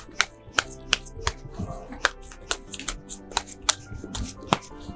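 Sharp, rapid snaps and riffles of tarot cards being shuffled by hand, irregular bursts close up with brief pauses between them and no talking.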